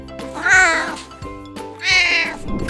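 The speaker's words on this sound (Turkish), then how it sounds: "Kediler miyav miyav der." A cat meows twice, two drawn-out nearby meows with a short pause between.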